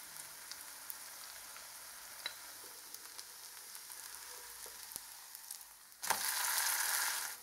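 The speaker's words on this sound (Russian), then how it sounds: "Обжариваю лепешки с двух сторон до готовности." Cottage cheese and potato flatbreads frying in vegetable oil give a steady, faint close sizzle with small pops, swelling into a louder, denser crackle for the last second or so.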